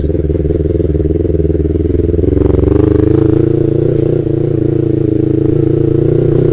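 A Yamaha R25 motorcycle ridden through forest near Karawang, its engine droning steadily and loud up close, rising slightly in pitch midway with some clatter from the rough track.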